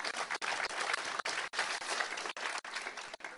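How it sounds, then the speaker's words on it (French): Steady applause from a political meeting audience fills the room, a sustained dense patter of clapping broken by a few brief gaps, heard at moderate distance with no talk over it. "Vous pouvez applaudir."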